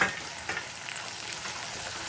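A tempering of green chilies, chana dal and ginger sizzles steadily in a hot pan, with soft stirring scrapes over a continuous close frying hiss and no talking.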